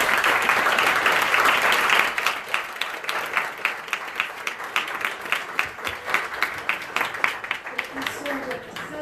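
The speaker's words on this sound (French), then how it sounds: "je vous demande de franchement applaudir ce panel" An audience applauding a panel at a round-table event on recruiting designers, dense clapping that thins into scattered, rhythmic individual claps before fading out.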